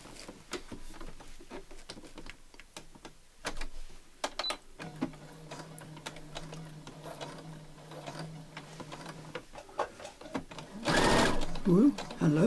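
A domestic sewing machine stitching a patchwork tablet pouch runs in a steady, close whirring burst of several seconds, with handling clicks and rustles before and after and a voice speaking near the end.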